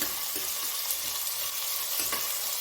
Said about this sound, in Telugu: పొడుగ్గా తరుక్కున్న ఆనియన్స్ గోల్డెన్ బ్రౌన్ కలర్ వచ్చేంత వరకు వేయించుకోవాలి